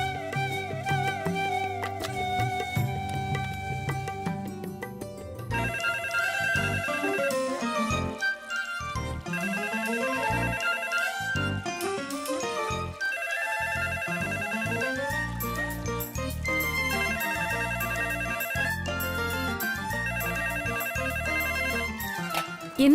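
A phone ringtone plays a melodic electronic tune continuously for a long stretch, loud and near, blended with dramatic background music and no voices.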